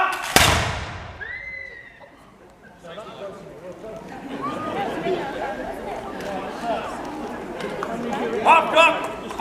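A rifle volley from a historical reenactment drill by the 33rd of Foot at Chester Castle, heard as one sharp loud crack near the start, followed by a crowd chattering and moving about outdoors.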